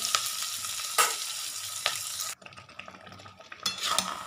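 Chicken pieces coated in ginger, onion, garlic and green chilli fry in a pan with a steady close sizzle, sharp spatula scrapes and a brief dip in the hiss partway through.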